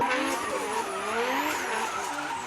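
JDM cars drifting at a car show, giving a loud, continuous tire squeal with a wavering screech over engine noise, sustained throughout without talk.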